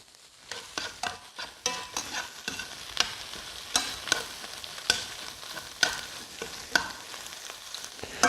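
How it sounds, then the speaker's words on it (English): Thyme sprigs being stirred into shrimp scampi sizzling in a pan, with a steady frying hiss broken by repeated scraping and clinking stirs at an irregular rhythm, close and fairly loud, no talk. "we're going to throw in those 3 or 4 sprigs of thyme or so. Mix those in."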